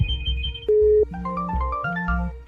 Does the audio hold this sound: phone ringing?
yes